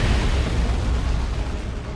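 Conversion beamer weapon firing in Warhammer 40k: Dawn of War 2 during a 3v3 match: a loud, heavy, booming blast with deep low-end rumble that decays over about two seconds.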